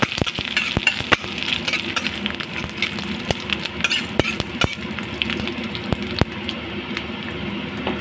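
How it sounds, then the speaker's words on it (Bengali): Green chilli, fenugreek and mustard seeds fry in hot oil in a pan as a tempering for arhar dal. Steady sizzling is broken by sharp, irregular pops and crackles, close and fairly loud, with no talking. "ফোড়নটা ভালো করে ভাজা হয়ে গেলে"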